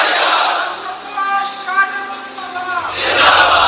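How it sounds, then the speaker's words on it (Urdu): A gathered congregation shouts a religious slogan in unison at an Islamic gathering marking Yom al-Badr, loud massed voices rising together in a sustained chant, swelling again toward the end. "آج تو دن ہے نا نعرے لگانے کا"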